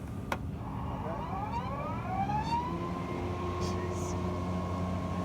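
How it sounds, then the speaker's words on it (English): Blades of a battery-powered lawn mower spinning up at a trade expo, a rising whine that sweeps upward and settles into a steady hum, with people talking nearby over the busy hall noise. "I wanted to hear the blades. Yeah, that's fine, man. This is a battery mower."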